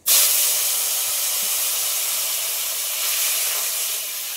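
Cumin seeds and two bay leaves hit hot oil in a pan, setting off a loud, sudden, steady hiss of sizzling that carries on close by without a break.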